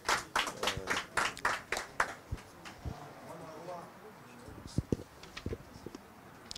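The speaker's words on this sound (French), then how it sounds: "Est-ce qu'on peut applaudir pour ce commentaire" An audience claps for a comment, a burst of sharp, close hand claps that tapers into a few scattered claps while people talk.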